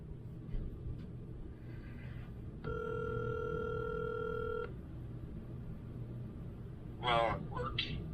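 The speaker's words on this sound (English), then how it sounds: "So let's get him on the phone real quick." A telephone call on speakerphone rings with a steady electronic tone for about two seconds, fairly clear over a low background hum. A voice speaks briefly near the end.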